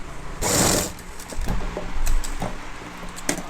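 A sewing machine stitches a uniform pinafore in a burst of running, starting, stopping and running again in short spurts, close and fairly loud, with no talking.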